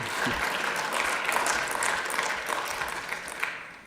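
Applause from an audience at a public meeting on fighting the Asian hornet, a brief burst of clapping that stays moderate and fades out near the end.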